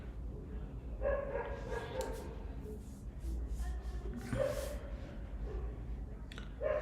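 Dog barking somewhere in the background, a few faint, distant barks and yips spread over several seconds under a steady low hum, with no clear talking.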